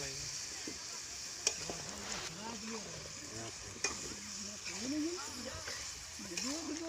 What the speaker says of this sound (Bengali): আর হলুদ আর নুনটা দেওয়ার পর একটু লাড়িয়ে নেব যাতে একটু গোটা মাংসটা মাখান যায়